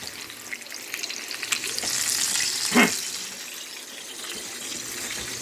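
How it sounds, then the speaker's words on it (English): Meat searing in a hot pan, a continuous close sizzle that swells briefly as a piece is flipped, with a short scrape midway, no voices. "I'm getting it flipped and seared all the way around"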